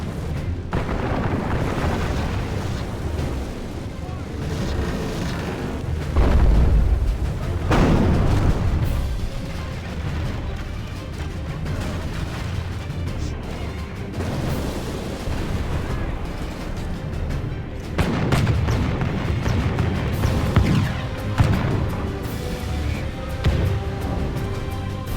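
Arquebusiers fire in a Medieval II Total War battle, with dull booming shots and crackling bursts scattered over a continuous roar of battle noise, while a narrator speaks over the din.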